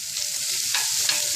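Tofu sizzles and is stirred in a non-stick iron skillet, a continuous close frying hiss with soft scraping strokes of the utensil moving through the pan.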